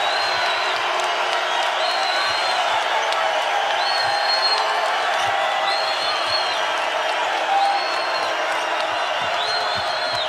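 Crowd noise in a college basketball arena during a UCLA at Utah men's game, a steady loud roar of spectators with occasional cheers and whoops running the whole time, under a commentator's voice.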